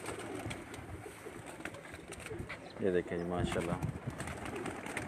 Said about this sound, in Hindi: प्योर हैं ये कबूतर लाल परी।